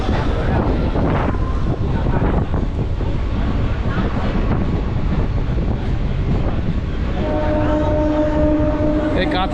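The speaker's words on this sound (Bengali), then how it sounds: "কাথি থেকে ছেড়ে দিল আমাদের ট্রেন" Loud rumbling of a passenger train departing Contai station on the Panskura–Digha line, with heavy wind rush, steady throughout, and a faint tonal whine emerging near the end.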